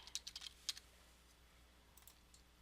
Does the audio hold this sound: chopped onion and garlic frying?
no